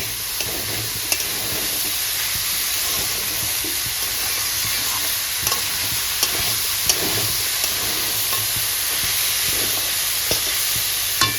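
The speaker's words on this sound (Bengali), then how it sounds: "এবার হাই করে দিয়ে খুব ভালো করে মোচা ছোলা মশলা একসাথে সব কষে নেব" Banana flower, boiled chickpeas and spices being stir-fried together on a high gas flame, a continuous dense sizzle and hiss with scattered scraping stirs and faint clinks.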